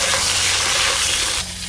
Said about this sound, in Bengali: আলুগুলোও ভালো করে ভেজে নেব